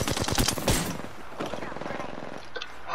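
RE-45 pistol fire in an Apex Legends-style shooter, a rapid burst of close, loud shots in the first second, then fainter scattered game sounds under excited talking.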